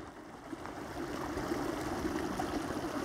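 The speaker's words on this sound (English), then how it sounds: "I'm going to empty the water out of here." Water poured out of a Katadyn Hiker Pro filter outdoors on Dartmoor, a steady splashing trickle running continuously at moderate loudness with no talk.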